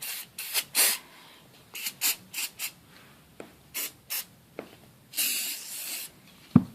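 Hairspray spritzed inside a model during weathering, a series of short close hissing bursts with quiet gaps between them, followed by one longer spray.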